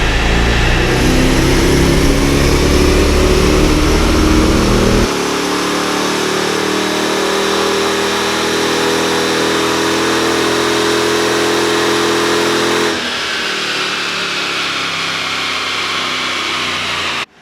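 A Mercedes E55 with 402,000 miles and a suspected fault, its engine running hard during a run with a loud, sustained roar that shifts in pitch and level twice and then tails off.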